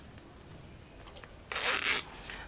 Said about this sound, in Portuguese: Eu vou abrir um pouquinho os dentinhos do zíper.